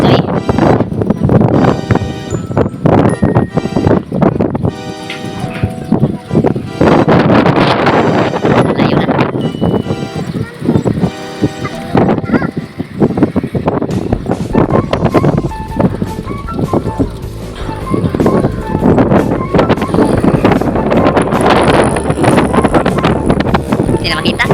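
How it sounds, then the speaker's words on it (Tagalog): Strong outdoor wind buffets the microphone in loud broadband gusts throughout, with children playing and people talking over it, on a day of flying kites made from a kilo of copper wire. "Kalakas ang hangin guys."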